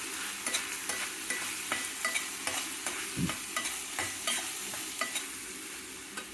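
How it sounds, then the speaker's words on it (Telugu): Garam masala being stirred into vermicelli frying in a pan, with a steady sizzle under regular scraping strokes of a spoon, close and continuous, no voices. "గరం మసాలా వేసి మొత్తం బాగా కలపాలన్నమాట."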